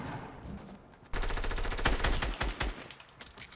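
A rapid burst of gunfire in Fortnite erupts after a quiet second, loud close shots rattling for about a second and a half before thinning to a few scattered pops.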